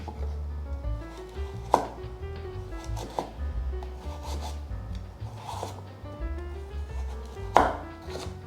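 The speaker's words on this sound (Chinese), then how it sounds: "切成细丝" A kitchen knife slices a peeled carrot into thin strips on a cutting board, with a steady series of close, crisp chopping strokes and a few sharper knocks.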